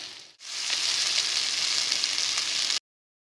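Chicken chow mein stir-fried in a pan, a sudden loud steady sizzle that starts after a brief hiss and holds for about two seconds before cutting off, close, with no voices.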